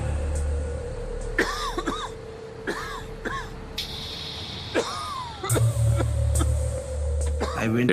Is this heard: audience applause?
no